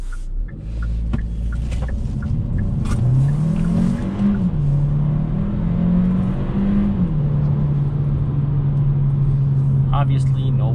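A 2022 Hyundai Kona N Line with all-wheel drive accelerates hard from a start, its engine droning up through the revs and settling into a steady hum, heard from inside the cabin.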